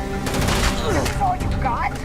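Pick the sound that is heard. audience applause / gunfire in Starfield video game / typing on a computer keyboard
gunfire in Starfield video game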